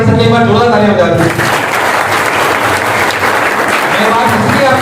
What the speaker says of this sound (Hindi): मैं चाहता हूं एनएसएल आरडी से एक बार जोरदार तालियां बजा दो